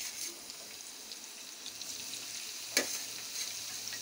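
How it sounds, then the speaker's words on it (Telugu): Onions dropped into hot oil with fried cumin seeds in a pan, giving a steady close sizzle with a brief louder burst of frying and stirring, no voices. "ఎల్లుల్లిపాయలు వేద్దాం"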